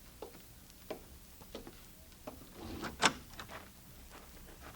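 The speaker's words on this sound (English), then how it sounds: "All right, Bob, open the door for him" A door opens in an 1876 Old West radio drama set in a shack near Northfield, Minnesota, marked by a few faint knocks and creaks and then one sharp latch click near the end.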